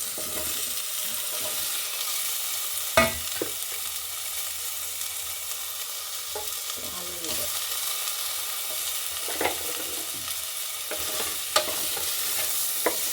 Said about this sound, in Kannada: ಫ್ರೈ ಮಾಡಬೇಕು ಚೆನ್ನಾಗಿ.